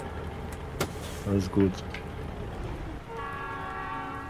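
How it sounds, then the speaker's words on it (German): Two short honks of a truck horn sound in the background of the trucking game American Truck Simulator, over a steady engine drone, with someone speaking briefly. "die Hupe im Hintergrund"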